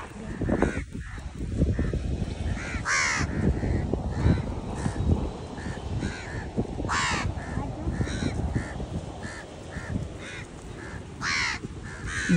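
Several crows caw repeatedly in bursts, fairly near, over a steady rumbling background with some indistinct voices.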